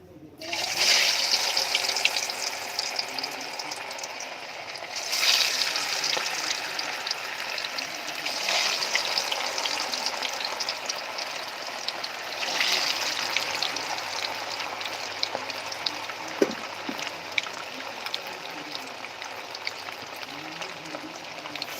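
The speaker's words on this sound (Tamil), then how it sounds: "மீன் பொறிக்க போகிறோம்" Fish frying in hot oil over a wood fire, a steady loud hiss and crackle that swells each time more fish goes in, with faint talk in the background.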